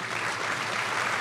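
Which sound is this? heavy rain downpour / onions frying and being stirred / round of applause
round of applause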